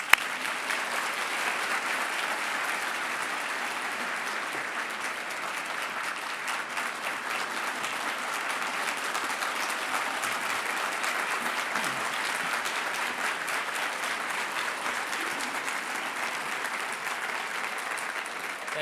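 An indoor audience gives a sustained, even round of applause welcoming Mayor McKinley Price at a State of the City address, a dense wash of clapping that holds steady for nearly twenty seconds.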